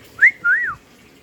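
Two clear whistled notes, the first short and rising, the second longer with a gentle rise and fall, close and fairly loud against a quiet background.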